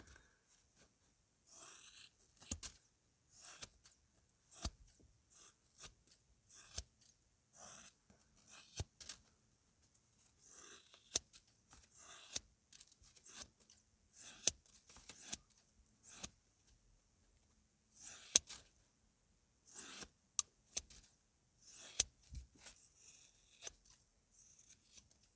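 Scissors repeatedly snip through a sheet of foam to block out a shape, in short irregular cuts with brief pauses, close and fairly quiet, with no voices.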